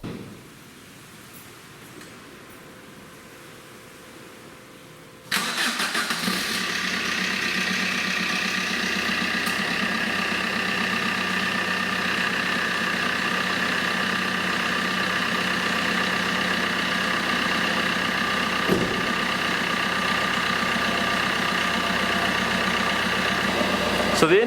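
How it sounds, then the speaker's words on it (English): A Fiat Panda's 1.3 Multijet diesel engine is quiet at first, then cranks and catches about five seconds in. It settles into a steady, loud, even idle that holds to the end, after a thermostat replacement. "So the engine's running okay."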